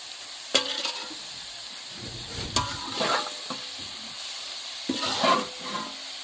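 Meat sizzles and fries in a pan as its fat renders out, with a steady close crackle broken by several sharp scraping stirs of a metal spatula; no talking.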